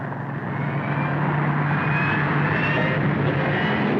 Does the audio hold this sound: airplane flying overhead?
yes